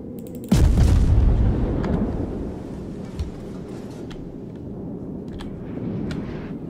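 Battleship shells firing and exploding in the naval game World of Warships: one loud, close heavy boom bursts out and rolls into a long, low rumble, with scattered faint distant thuds and crackles trailing after it.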